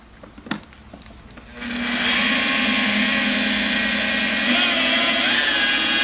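A car buffer spins up with a wetted pad, used while detailing a 1972 Ferrari, at about 1,500 RPM: a few faint clicks and handling knocks, then the motor rises into a loud, steady high-pitched whine that holds to the end.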